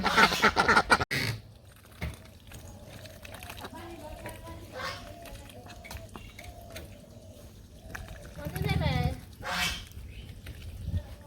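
Ducks quacking while being fed rice, scattered quacks and honks close by, mixed with ambient noises and a person talking.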